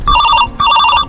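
A telephone rings loudly and close in two quick electronic trilling bursts, separated by a brief gap.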